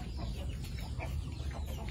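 Chickens cluck on a rural Vietnamese farm as they are fed melon, a dense flock chattering continuously close by with no talk.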